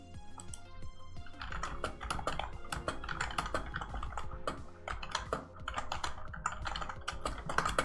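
Fast, steady typing on a computer keyboard, a dense run of close, moderately quiet key clicks with no talking.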